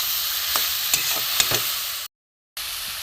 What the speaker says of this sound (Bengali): লাল লঙ্কার গুঁড়ো দিয়ে আমি এটাকে ভালো করে ভাজবো কষে